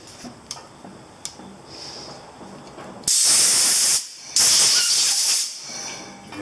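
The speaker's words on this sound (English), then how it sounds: "We're going to use some compressed air for that." Two loud bursts of compressed air blowing while handlebar grips go onto a 2000 Yamaha Virago 250 XV250 motorcycle, each hiss lasting about a second with a short gap between, after quieter workshop ticks.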